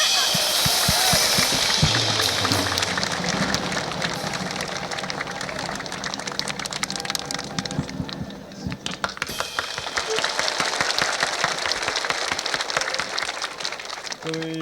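Dense, sustained applause fills a crowd at an outdoor evening military troop show as Ling Feng is welcomed on stage, loud and continuous with clatter and some whistles.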